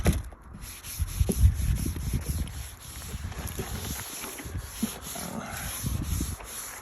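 Sandpaper rubbing back and forth over wood for a remote-controlled desk, a steady close scraping with uneven strokes and a few heavier knocks, no voices.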